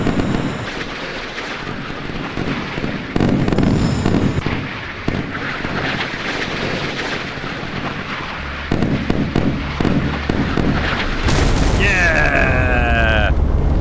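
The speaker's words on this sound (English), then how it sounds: "Fire the missiles! Fire the missiles! Missiles away!" Missiles launching and striking in a 1960s naval combat video game, a run of booms, rushing launches and blasts ending in a whistling, sweeping tone, with someone talking excitedly throughout.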